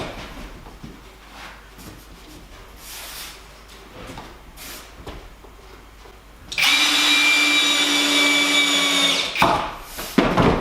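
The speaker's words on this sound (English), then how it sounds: "we'll screw the backs on with some smaller screws" A power driver sets small screws into the backs of wooden storage boxes: one steady, high motor whine that lasts about three seconds at close range, after quieter workshop handling sounds.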